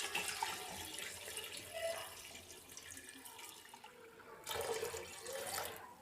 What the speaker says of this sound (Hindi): इसके अंदर हम पानी डालेंगे।